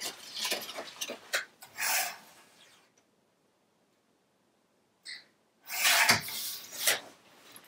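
A paper trimmer cuts paper in a few short, rasping slicing strokes, close and dry, with a quiet gap between the two bursts.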